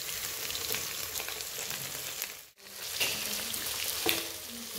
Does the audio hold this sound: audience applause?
no